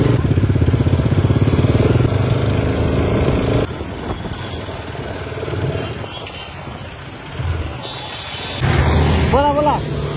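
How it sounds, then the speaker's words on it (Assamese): A motorcycle engine on a ride runs at a loud, steady drone close to the rider, then eases to a lower, uneven rumble and rises again near the end. "বাইক ৰাইড চোৱা এতিয়া অকণমান।"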